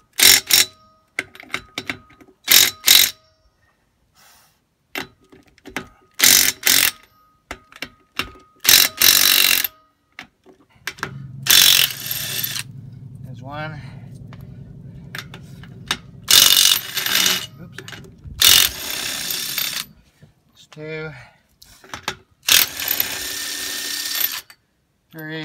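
Ratcheting tool clicking in repeated short bursts while loosening lug nuts on a camper wheel, close and crisp, with brief pauses between runs and a lower mechanical hum in the middle stretch.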